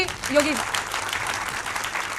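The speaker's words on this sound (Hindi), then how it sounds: "सुधांशु जी का तालियों के साथ स्वागत हो रहा है।" A studio audience applauds as a guest is welcomed on a Hindi political TV debate, steady clapping with a presenter's voice briefly heard over it at the start.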